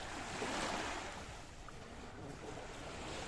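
Surf washing onto Corallia Beach in Coral Bay, a steady broadband roar of breaking waves with light wind buffeting the microphone, continuous and fairly close, no voices.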